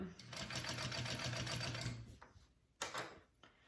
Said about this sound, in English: I do my just 2 main outside lines of stitching first